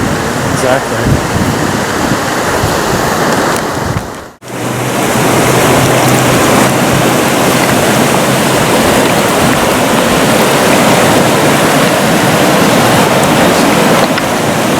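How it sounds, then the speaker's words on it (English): Snowmelt-swollen Merced River in Yosemite rushing loudly and steadily, a broad continuous roar with a brief dip near the middle before the torrent resumes at full strength. "that volume of water you're seeing in the Merced River is an indication of what's coming as the snow melts on the Sierras"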